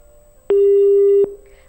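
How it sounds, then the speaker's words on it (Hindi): A single steady busy-signal beep sounds loud and clear when a live call-in phone line drops during a farmers' broadcast, with a faint hum before and after. "फोन हमारा यहाँ पर कट गया है"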